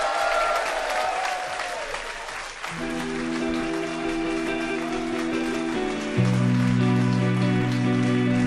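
Applause and cheering from a live audience for a band at a BBC session, steady dense clapping through the whole stretch while sustained musical tones start up and shift underneath partway through.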